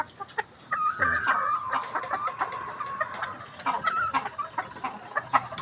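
Boston Black Escolin chickens clucking nearby in a backyard breeding pen, a run of short, repeated clucks and a brief drawn-out call over faint background noise, with no talking.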